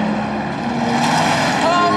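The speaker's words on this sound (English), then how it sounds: "I think I can hear a car." A car drives past near a forest lake, a broad swelling road-noise whoosh that builds and peaks toward the end, close and fairly loud.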